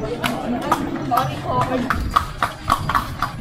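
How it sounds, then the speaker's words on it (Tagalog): Horse hooves clip-clop in a steady rhythm as a kalesa carriage rolls along Calle Crisologo in Vigan, with people chatting over the close, regular hoofbeats. "Ang ganda po ng kabayo nyo"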